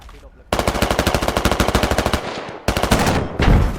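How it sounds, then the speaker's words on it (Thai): Automatic gunfire in the military shooter game Squad, loud rapid bursts of evenly spaced shots, one long burst, a brief pause, then another shorter burst with a heavy boom at the end. "โอ้แล้วยิงไปแล้วหนึ่งนัด"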